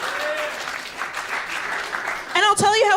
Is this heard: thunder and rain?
no